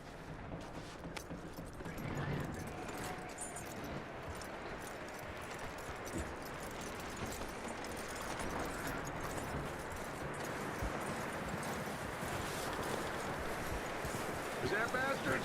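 Horse hooves clip-clop at a steady walking pace in Red Dead Redemption II, moderately close and continuous over a dense bed of outdoor ambience and rumble.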